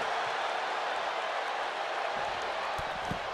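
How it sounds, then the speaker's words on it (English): Loud wrestling arena crowd in a match between Kazuchika Okada and Roman Reigns, a dense sustained roar of cheering with scattered claps filling the whole moment, steady and crowd-wide throughout. "The sound of this crowd is deafening, and he's asking for more."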